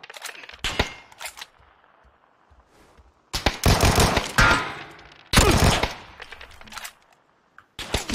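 Bursts of video game gunfire, including automatic fire, come in several loud clusters separated by quieter gaps, with short sharp single shots near the start and end.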